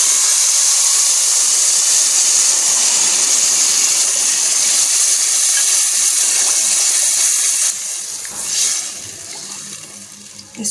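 Water poured into a hot pan of browned semolina halwa with sugar hisses and sizzles in a loud, steady rush of steam for several seconds, then quickly subsides into softer bubbling.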